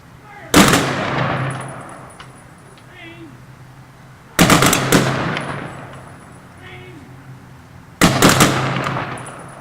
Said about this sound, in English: Sergeant of Guard, you will fire a volley salute in honor of our fallen and veterans.